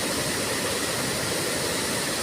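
Rushing water roars steadily from a waterfall at Ban Tangoi, a dense, loud, unbroken wash of noise heard up close with no other sounds.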